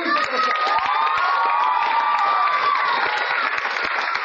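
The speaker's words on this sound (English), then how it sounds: "Give her a huge applause." Loud, sustained applause and cheering from an audience at a memory-training session, with claps, whoops and shouting voices filling the whole stretch without a break.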